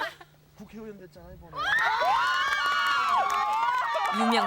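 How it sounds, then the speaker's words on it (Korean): A crowd cheers and shouts in welcome for a newly elected National Assembly member at a nature conservation event on Ganghwa Island. It bursts in loudly after a brief quieter moment with a few voices, then holds as excited, high-pitched cheering and screaming. "유명세 덕에 가는 곳마다 그를 반기는 환호가 따라다닌다"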